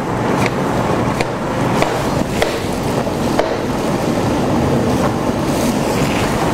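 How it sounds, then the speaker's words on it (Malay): Water boils hard in a pot, ready for blanching papaya for pickles, with a continuous loud rolling bubble and occasional sharp pops and clicks. "Nampak air dah menggelegak."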